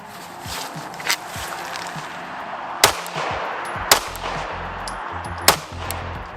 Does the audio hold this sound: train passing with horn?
no